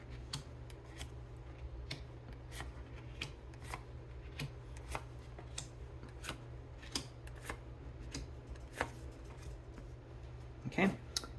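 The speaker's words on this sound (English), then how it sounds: "I'm going to pull these face down, and then we're going to lift them up little by little" Tarot cards slid from a deck and laid face down one by one, a series of soft, quiet card snaps and rustles at an irregular pace over a low steady room hum, with a slightly firmer placement near the end.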